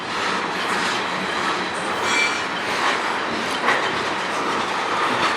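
A freight train rolls past steadily in Sarnia, Ontario, a continuous broadband rumble of wheels and cars with faint metallic squeals, close and loud throughout without pause.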